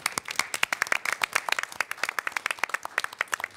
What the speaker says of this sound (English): we'll just give a round of applause of welcome